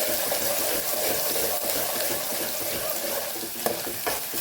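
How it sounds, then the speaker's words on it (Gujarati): Onions sautéing in hot oil with cumin seeds and asafoetida for a Kathiyawadi chana-potato curry, giving a steady, close, loud sizzle and crackle throughout with the occasional brief pop, and no voice. "ડુંગળીનો વઘાર કરીશું એને સરસ આપણે સાતળી લેવાની છે"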